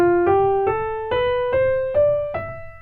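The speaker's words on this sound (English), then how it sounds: "the Phrygian mode starts on the third note of the major scale" Piano notes rise through the Phrygian mode scale, beginning on the third degree of the major scale, seven evenly spaced struck tones ringing cleanly in a quiet room.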